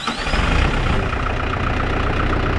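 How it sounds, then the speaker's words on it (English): A New Holland TC45 tractor engine runs at a steady, close idle, a rough low rumble with a brief rising whine near the start. "Let's start the tractor, idle for a couple minutes, shut it off, and check the level again."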